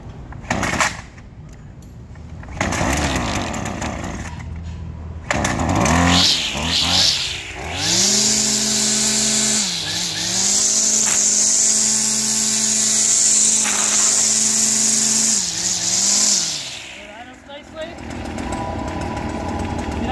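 A Stihl FS56RC string trimmer, choke set and prime bulb pressed, fires up after a few pull-start attempts and settles into a loud, buzzing two-stroke run with revs rising and falling up close, with someone speaking beforehand.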